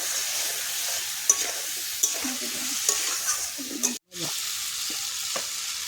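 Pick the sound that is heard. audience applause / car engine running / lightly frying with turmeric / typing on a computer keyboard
lightly frying with turmeric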